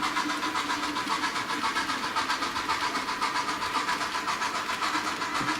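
Sound effects from an MTH model train engine: a steady, rhythmically pulsing engine chug that holds at an even level throughout.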